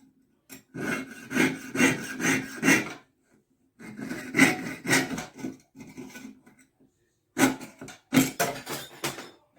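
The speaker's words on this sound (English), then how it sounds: "I love that sound it makes when the saw goes through this thin metal." A hand saw cuts thin metal for a spinner ring in three rhythmic bursts of rapid rasping strokes, with brief pauses between them. The sawing is close, and nobody speaks.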